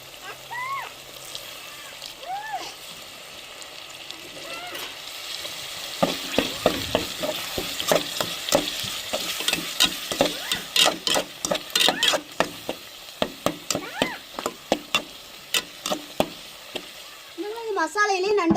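Masala sizzles and crackles in a hot pan while a spoon scrapes and stirs in quick, repeated strokes for crab gravy, with a voice talking over it.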